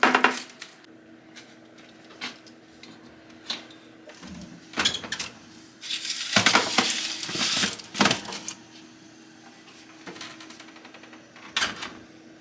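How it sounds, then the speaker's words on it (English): A pan goes into a preheated 400-degree oven in a home kitchen, with scattered metallic clinks, knocks and a rack or door scrape, then a brief clatter near the end; moderately close, no talking. "Now this pan is going to go into a preheated 400-degree oven for about 20-25 minutes."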